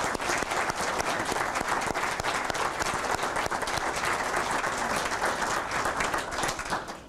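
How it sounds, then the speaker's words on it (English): A long, dense round of applause from students at a graduation ceremony for faculty and staff, loud and continuous with individual claps crackling throughout. "please join me in a round of applause for the faculty here at AIB and the staff"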